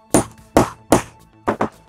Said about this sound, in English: You're gonna take your hammer and you're gonna hammer it.